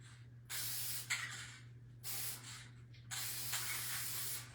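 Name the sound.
spraying Mod Podge matte spray sealant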